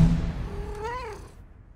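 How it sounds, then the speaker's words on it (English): A single cat meow, rising then falling, close and clear over a low rumble, lasting under a second. "Now your cat's gonna meow."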